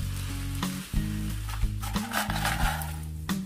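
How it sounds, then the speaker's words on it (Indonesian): A pan-fried filling with whole sesame seeds sizzles steadily while being stirred, with repeated scraping knocks of the utensil against the pan and no voices. "Kemudian tambahkan 2 sendok makan sesam atau wijen utuh dan tumis kembali hingga semuanya benar-benar matang."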